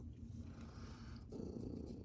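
A pet cat purring close by, a soft, low continuous rumble that grows slightly louder toward the end, heard alone with no talking.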